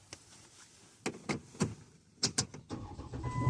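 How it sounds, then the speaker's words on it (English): Inside a Dodge Caravan, a series of sharp clicks and clunks comes before a low engine rumble that builds and settles into a steady idle, heard close from the cabin. "So we are inside our vehicle, and we'll start her up and get going."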